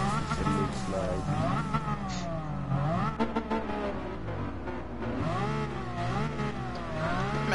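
A Lexus LC500 in a racing video game revs hard around the Nürburgring, its engine note sweeping up and down continuously through gear changes, loud and close throughout.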